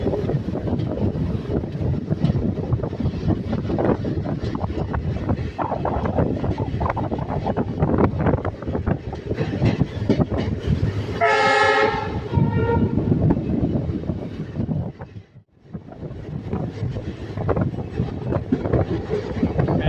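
A passenger train from Ahmedabad to Botad accelerates, roaring steadily with wind rushing past, a loud horn blast sounding midway before the rumble briefly dips and resumes.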